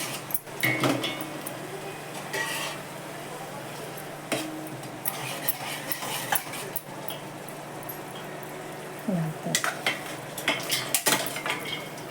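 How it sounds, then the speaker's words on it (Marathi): One kilo of mutton stirred into fried masala in a pot, with repeated metal spoon clanks and scrapes against the vessel over a low sizzle, close and busy, occasional faint voice in the background. "एक किलो मटण आहे चांगलं मिक्स करून घेते"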